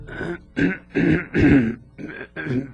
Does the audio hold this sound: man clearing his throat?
yes